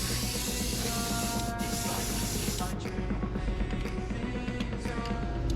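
Aerosol-style spray of thick paint onto a carp-colored DRT Klash9 fishing lure, a steady close hiss running throughout with faint music underneath and brief gaps in the spray.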